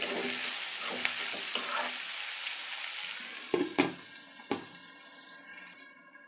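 Curry leaves and other ingredients sauté in a hot oiled pan, a steady close sizzle with scraping stirs and several sharp spoon knocks against the pan near the end, no talking.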